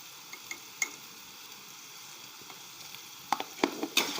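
Spices being sautéed and stirred in a pan for a Marathi green pea curry, with a faint steady sizzle broken by a few sharp scraping stir strokes, the louder ones bunched near the end.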